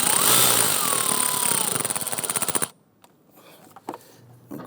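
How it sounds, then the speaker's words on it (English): A bolt on the fuel rail of a 2011-2021 Jeep Grand Cherokee 3.6L V6 is driven down by a loud, close tool. It gives a steady whir that turns into rapid rhythmic pulsing, stops abruptly, and leaves faint scattered clicks in near silence. "I'll go ahead and tighten down this bolt"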